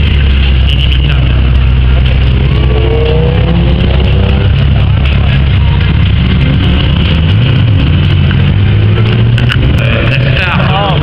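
A Ferrari sports car engine revs loud and close, a steady deep roar with rising and falling pitch sweeps, while someone talks over it.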